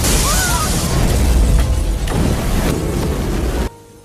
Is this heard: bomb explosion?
yes